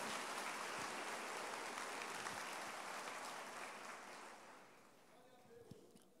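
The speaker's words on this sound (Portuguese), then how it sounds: "Merece até uma salva de palmas, alegre, feliz, não é isso?" A church congregation applauds during a sermon, the clapping loud and continuous at first, then thinning and fading after about four seconds, with a few scattered claps and faint voices at the end.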